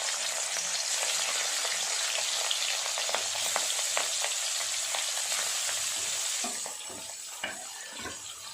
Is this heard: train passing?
no